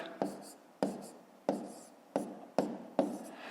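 Pen strokes writing out figures for a long-division problem on paper, six distinct scratchy marks at a steady pace, each starting sharply and fading, close and fairly quiet with no talking.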